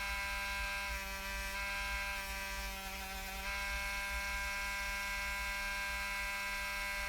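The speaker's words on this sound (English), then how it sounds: "now we're just changing across to a calico wheel with beeswax on it, and just giving it the initial polish" A calico buffing wheel charged with beeswax spins on a motor while a knife handle is polished. A steady, fairly quiet electric whine with a constant hum runs throughout, with a slight change in tone midway and no talk.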